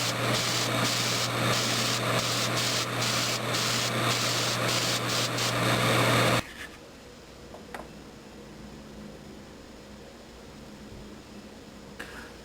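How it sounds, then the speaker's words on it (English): An airbrush sprays acrylic paint onto a Tamiya Panzer II tank model, a loud steady hiss with faint compressor hum for about six seconds that then cuts off, leaving quiet room tone with a few light taps. "I just switched over to my airbrush, and now I'm going to paint the main color."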